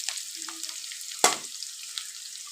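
Onions sauté in a pan for wheat rava kichadi, giving a continuous bright sizzling hiss with one sharp utensil clack midway, close by and without speech.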